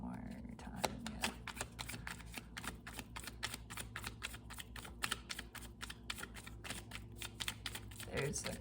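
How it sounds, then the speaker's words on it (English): Tarot cards shuffled by hand in a steady run of crisp, rapid riffling clicks close by, continuing throughout with a faint murmur of speech underneath. "Shuffle that one more time."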